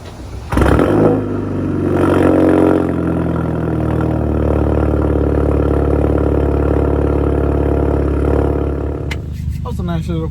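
An Audi A3 8P cold start: starter crank, then the engine catches with a loud flare of revs and settles into a steady, close idle, with a brief click near the end.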